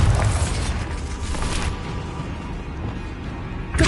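A Bombarda spell explosion in the video game Hogwarts Legacy: a loud, dense boom at the start that rumbles on as a sustained roar, thinning out, with a fresh burst right at the end.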